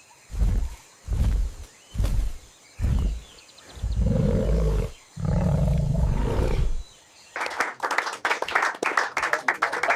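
A wild tiger released into a protected reserve lets out a series of deep, rumbling roars and growls, loud and close, followed by a burst of rapid clapping-like crackles.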